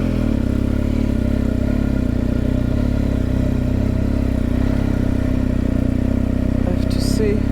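A motorcycle rides along a wet road on a rainy day in coastal Ireland, a constant loud engine drone mixed with rushing wind and road noise and no break.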